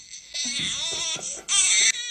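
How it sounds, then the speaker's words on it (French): A baby cries in loud, high-pitched wailing bursts, two long strained cries with a short break between them. The crying is close and alone, with no talk over it. "Pourquoi j'entends des cris de bébé?"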